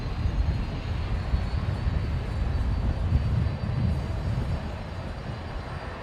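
A Fokker aircraft engine at Brisbane Airport drones as a low, continuous rumble at a distance, fairly faint and steady throughout, with no voices over it.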